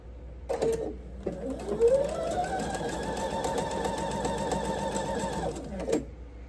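A sewing machine runs steadily for several seconds while background squares are sewn onto a table-runner, a close, even mechanical whir that starts and stops cleanly, with no talking.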